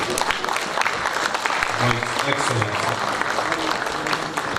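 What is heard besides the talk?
applause for Professor Yemi Osinbajo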